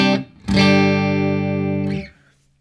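Nash T-57 Telecaster on its middle pickup through a Morgan RCA35 amp, a sustained chord ringing clean and loud for about a second and a half after a short pluck, then fading out.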